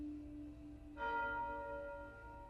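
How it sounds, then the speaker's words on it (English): Church bells begin chiming about a second in, sustained ringing tones layered over a low background hum, moderately loud and steady to the end with no voices. "The church bells began chiming."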